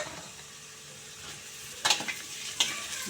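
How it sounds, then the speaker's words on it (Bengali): A spatula scrapes and clinks against a pan while ridge gourd and fried potatoes are stirred together, over a soft continuous sizzle, with two sharper metallic knocks near the end. "ঝিঙে আলু সব একসাথে নেড়ে নেব"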